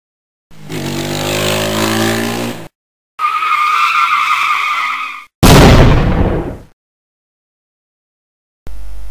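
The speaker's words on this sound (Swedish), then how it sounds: "Bromsa mopeden." A moped brakes and skids in several separate bursts: two sustained scraping squeals, then a sharper louder skid, with silence between and a short final burst at the end.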